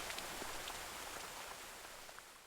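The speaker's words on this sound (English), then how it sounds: "Rain was falling from the sky." Rain falls steadily as a soft, even patter of drops, fairly quiet and unbroken, with no talking.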